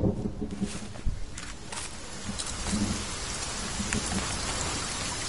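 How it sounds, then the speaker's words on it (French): Steady rain pours in The Forest survival game, a dense continuous hiss of drops on surfaces with a faint low rumble and a few soft knocks, no voices. "Oh, il pleut."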